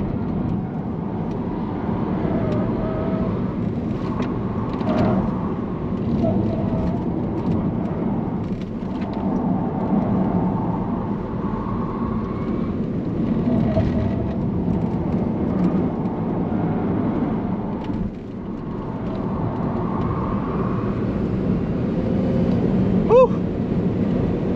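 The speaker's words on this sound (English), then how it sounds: "On acceleration, the car just wants to go somewhere away." A Tesla Model S Plaid accelerates on the Nürburgring, a continuous cabin roar of road and wind noise that holds steady for the whole stretch, with faint voices beneath.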